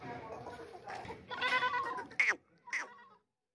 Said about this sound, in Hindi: पुअर मक्खी चीनी, ऊंची लंबी माशाल्लाह से बड़ी बकरी चेक करें।